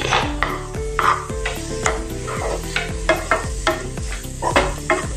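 Vegetables sizzling in a pan as a spoon stirs and scrapes repeatedly against the metal, producing a steady frying hiss punctuated by rhythmic clanks, close and without talk.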